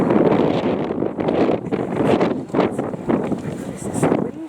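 Strong wind buffets the microphone in loud, uneven gusts in a kitchen garden, a constant roaring rumble that swells and dips.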